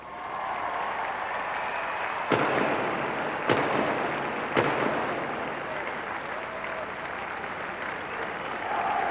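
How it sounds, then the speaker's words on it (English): Three sharp, loud field gun blasts go off in steady succession amid constant crowd noise during a naval field gun run competition, each report standing clear above the roar. "3 more shots to be fired"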